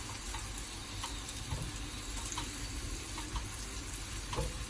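Carrots and potatoes fry in oil in a small saucepan, a soft, continuous sizzle with scattered light clicks and knocks from stirring, fairly quiet throughout.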